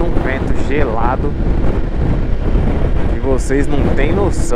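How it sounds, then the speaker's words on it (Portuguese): Cold wind blowing at a high, icy mountain lookout, a steady broadband roar buffeting the microphone throughout while people talk over it. "tá batendo um vento gelado."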